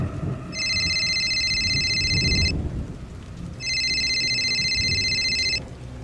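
A phone rings in two long electronic bursts with a pause between, heard while standing under the thatch of a broken-down house as steady rain falls all around.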